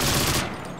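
Rapid gunfire from a primary weapon in the video game Call of Duty: Modern Warfare 2, a loud dense burst that cuts off partway through the brief moment.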